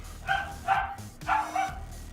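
Dogs bark close by in two quick pairs of sharp barks, loud and alone with no talking.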